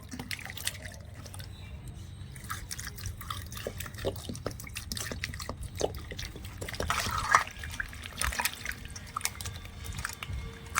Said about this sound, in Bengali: এবারে একটু পরিষ্কার করে ধুয়ে নেব